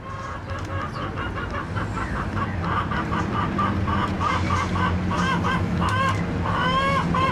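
Chickens cluck and squawk steadily for several seconds in a short film, with overlapping calls from more than one bird, loud and close over a constant background din.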